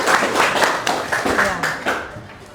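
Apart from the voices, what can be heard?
students clapping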